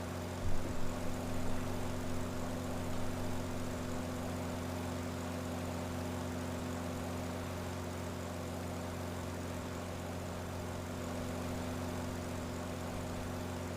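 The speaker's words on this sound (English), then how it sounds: "This definitely needs a new engine sound." A steady, droning piston aircraft engine in a flight simulator game, a constant hum with strong low tones running unbroken for the whole stretch at even loudness, with no talk.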